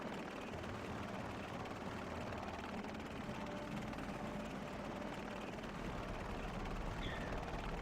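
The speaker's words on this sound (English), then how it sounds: "we flew a helicopter into a" A goblin shaman's helicopter flying in World of Warcraft, a steady rotor drone with low engine rumble, continuous and even throughout with no talk.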